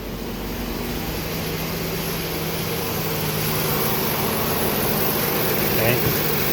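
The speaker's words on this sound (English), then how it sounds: "So now we got the compressor working." AC compressor running on a 2015 Ford Explorer with the engine idling, a steady close hum and whir under broadband hiss, with brief talk in the background.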